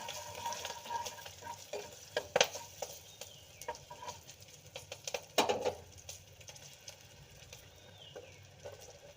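Fish curry being stirred in a pan with black cumin, green chillies, turmeric and Kashmiri chilli powder: soft scraping and stirring over a light sizzle, with a couple of sharper utensil knocks near the middle, no talking.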